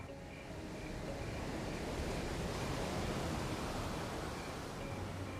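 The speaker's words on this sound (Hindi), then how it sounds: "समंदर की लहरें साहिल से टकरा रही थीं" Continuous roar of sea waves breaking on the shore near Shivaji Park at night, a steady broadband wash with no distinct individual crashes, no voices.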